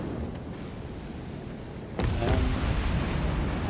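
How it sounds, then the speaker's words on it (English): Secondary guns on a warship in a naval video game fire with two sharp booms about a third of a second apart, cutting through a steady rumble of engine and sea noise and leaving a louder wash behind. "my secondary cannons fired."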